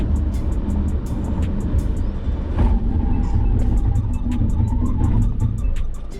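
A BYD Atto 3 electric SUV speeds up to 100 km/h and then brakes hard, giving a steady low road rumble and rising tyre and wind roar, with faint whining tones along the way.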